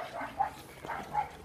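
Dogs barking in short yips near a pool at a sanctuary, three quick close barks in a row with no talk.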